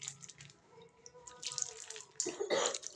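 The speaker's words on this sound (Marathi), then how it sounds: "त्याच्यावर आपण अशा प्रकारे पाणी टाकायचं आहे" Water splashed by hand onto a cotton dhoti cloth while making rice papad, a few soft patters followed by louder wet splashes near the end, close and quiet with no talking.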